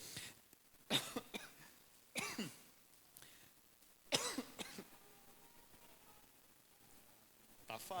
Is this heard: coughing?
yes